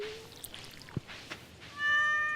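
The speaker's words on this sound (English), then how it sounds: "But we're going to pet our kitty." A pet cat in the Stardew Valley video game gives one clear, drawn-out meow at the end, after a few faint soft game noises.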